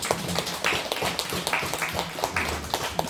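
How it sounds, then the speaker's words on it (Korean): A church congregation claps together during a sermon, a dense, steady patter of many hands lasting the whole stretch at moderate loudness, with no voice over it. "우리 자별상 바라보면서 왕자 공주님께 박수 한번 쳐주세요."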